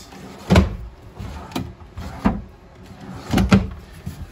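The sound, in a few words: RV power converter panel cover pressed and popping open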